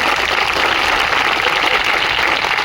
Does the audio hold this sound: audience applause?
yes